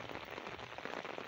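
A dense, even wash of heavy monsoon rain falling over flooded Punjab paddy fields, heard as a brief steady hiss at low level.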